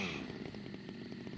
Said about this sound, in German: Die Säge läuft, jetzt richtige Taste